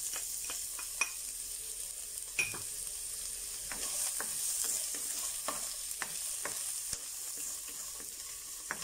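Garlic and onions sautéing in oil in a pan for Pinoy-style beef picadillo, a soft steady sizzle with scattered spatula scrapes and taps, close by and with no one talking.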